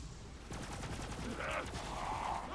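Enemy gunfire in Borderlands 3 rattles off in fast continuous bursts at moderate distance, with faint voices talking over the shooting.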